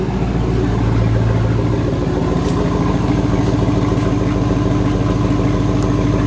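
A gasser truck with a big new exhaust idles steadily and loudly up close, its deep rumbling pulse even and unbroken throughout, with a few faint ticks above the drone.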